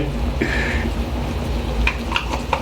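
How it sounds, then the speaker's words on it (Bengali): Garlic paste stirred and frying in a pot for vegetable khichuri, a soft steady sizzle with a few light scraping clicks of the spoon toward the end. "রসুন বাটা এটা ভালোভাবে এখন নেড়ে চেড়ে কষাতে হবে"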